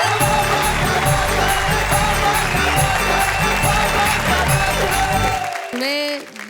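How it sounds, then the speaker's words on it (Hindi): A crowd at a stage show for a singer claps steadily and loudly, the applause running for several seconds before cutting off, with a voice and a brief tonal sound at the end. "जो जरा तालियां बजाइए"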